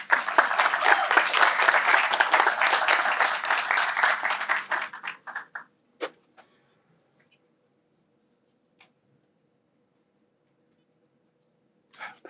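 An audience applauds a speaker onto the stage at an ADMAF talk, steady clapping for about five seconds that thins out and stops, leaving near silence with a few small knocks and taps.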